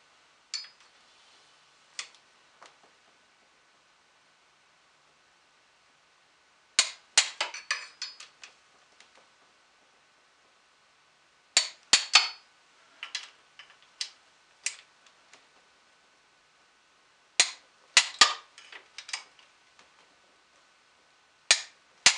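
A torque wrench set to 20 foot-pounds clicks while tightening fasteners into aluminum. Sharp metallic clicks come in clustered bursts separated by quiet pauses, close and clear with no talking.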